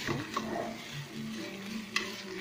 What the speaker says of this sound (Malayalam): നമുക്കൊന്നും കൂടി ഇളക്കി കൊടുക്കാം